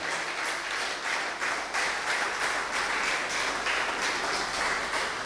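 A church congregation applauds during worship, a steady, dense wash of many hands clapping throughout, fairly loud and even, with no voices standing out.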